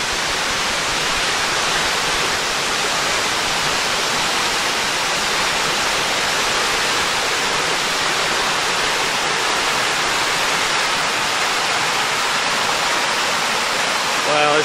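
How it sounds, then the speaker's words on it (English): Waterfall on a forest trail in Worlds End State Park, Pennsylvania, a loud, unbroken roar of falling water that fills the whole stretch, holding steady throughout. "Ooh, another waterfall."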